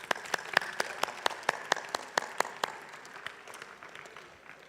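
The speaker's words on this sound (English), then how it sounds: "Give him a round of applause." Slow, rhythmic claps ring out near a chapel audience, about a dozen sharp, evenly spaced hits that soften into scattered quieter clapping, with no talking.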